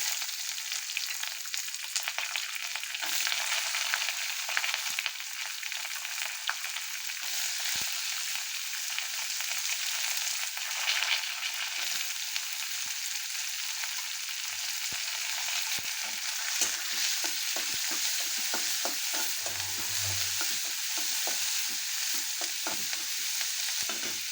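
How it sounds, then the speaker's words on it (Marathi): Onion frying in hot oil with garlic already browned, for a spicy tomato chutney, stirred now and then with a utensil; a steady close sizzle runs throughout with scraping stir sounds scattered across it. "लाल झाल्यानंतर त्यामध्ये कांदा टाकून द्यायचा."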